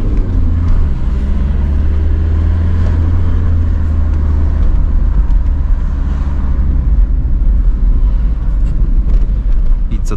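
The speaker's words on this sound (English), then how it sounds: "I like the noise of the TDI, especially when you are pushing the pedal without having the clutch on fully clutched position" Diesel engine of a 1997 Volkswagen Passat B5 Variant wagon, 1.9 TDI with 110 hp, drumming steadily with a deep low rumble while driving through the city, loud and continuous throughout.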